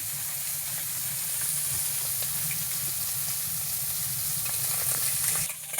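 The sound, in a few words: small fish lightly frying in a pan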